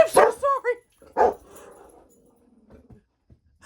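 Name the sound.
dogs barking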